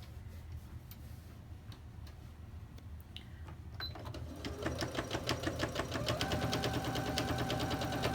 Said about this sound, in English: I'm gonna start sewing 1/4 inch.